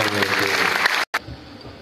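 An audience at a poetry festival claps for the poet Dr. Davinder Saifi, a dense burst of applause that stops abruptly, followed by a brief faint murmur.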